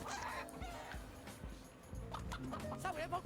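Chickens cluck and squawk at a chicken fight in the video game Sleeping Dogs, a busy run of bird calls over steady game ambience with a dog-like bark mixed in.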